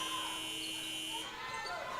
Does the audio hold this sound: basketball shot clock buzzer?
yes